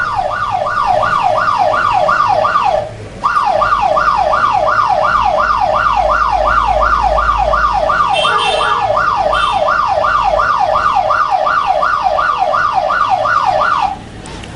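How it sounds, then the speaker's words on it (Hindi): A mobile phone's anti-theft alarm blares a loud, fast rising wail repeated in rapid cycles, cutting out briefly near the start, resuming, then stopping near the end. "जैसे ही इस नंबर पे ये मैसेज रिफ्लेक्ट होगा वैसे ही सायरन ऑफ हो जाता है हमारा"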